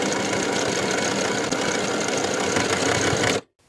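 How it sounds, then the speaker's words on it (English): A sewing machine topstitches along the finished edge of a denim skirt pocket flap, running at a steady whirring, rattling pace close up before cutting off abruptly near the end. "Top stitch along the bottom finished edge of the top flap, sewing from the right side of the fabric."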